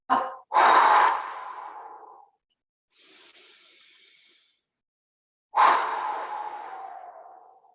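Deep, forceful yoga breaths during a kundalini class: a sharp strong inhale and long rushing exhale, a softer breathy pause, then another powerful exhale trailing off, close and alone with no talk.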